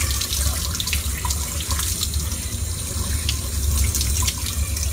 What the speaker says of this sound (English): Let's rinse it off one more time.